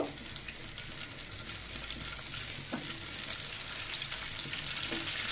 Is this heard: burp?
no